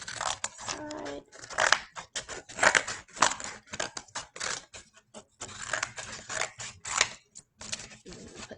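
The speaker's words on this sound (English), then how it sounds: "now I'm going to cut the side part" Scissors snip through a paper plate in a quick, uneven run of crisp close cuts and crunches, broken by short pauses, with no voice over them.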